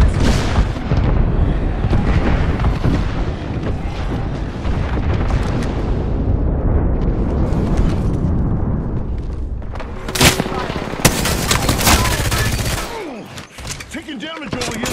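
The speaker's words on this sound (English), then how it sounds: "Taking fire." Gunfire and explosions in the video game Apex Legends, dense rapid bursts and booms that run almost continuously, loud and close, with brief sharp hits near the end.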